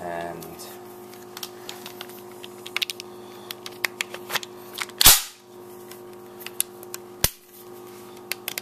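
An M1 Garand rifle's safety and trigger being worked up close, giving a series of crisp metallic clicks and two sharper snaps, with someone speaking briefly.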